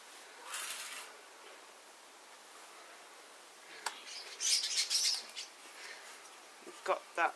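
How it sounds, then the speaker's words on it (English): Starlings call outdoors in a few short, faint chirps and bursts scattered through otherwise quiet surroundings, a brief cluster midway and a couple more near the end. "They're starlings."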